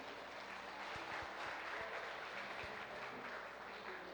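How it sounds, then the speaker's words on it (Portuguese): Conference audience at a church event applauding in a dense, even roar of clapping, fairly distant and soft, sustained for the whole stretch. "Palmas para os meus irmãos aí"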